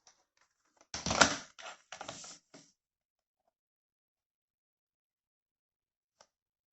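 Card for scrapbooking pocket cards is cut with a few quick crisp snips and rasps in a short burst, followed by quiet.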